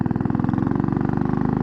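Royal Enfield motorcycle engine while riding, a steady, loud, close thumping pulse with a rapid even beat and no voices.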